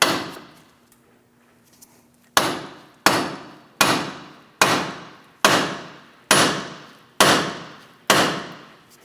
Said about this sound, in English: and we're going to hammer this down.